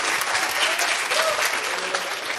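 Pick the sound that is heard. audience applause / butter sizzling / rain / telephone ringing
audience applause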